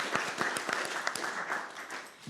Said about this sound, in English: Please give a warm round of applause to Kathy.